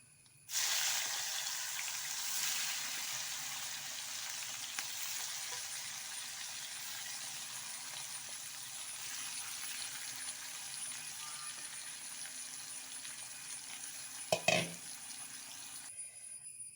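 Chicken pieces fry in hot oil, giving a steady loud hiss and crackle that holds for the whole stretch, with a brief clatter near the end and no talk.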